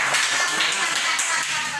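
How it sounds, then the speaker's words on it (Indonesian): A brief burst of scattered clapping and tapping from a small group, close and fairly loud, lasting under two seconds. "Tepuk tangan dulu kepada Talita."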